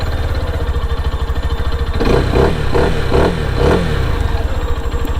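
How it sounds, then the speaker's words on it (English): A Lifan KPR200 motorcycle engine with stock exhaust cranks with a fast mechanical chatter, then fires and revs in several rising, throaty pulses before settling back to a rough idle. "this is her starting up"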